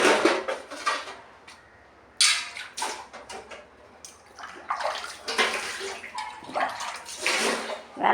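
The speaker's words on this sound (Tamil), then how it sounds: "பாத்திரத்தை விளக்கி போட்டுருவேன்" Dishes are washed under running water, with bursts of splashing and gushing from the tap alongside light clinks and clatters of utensils and pots, close by, in a quiet room.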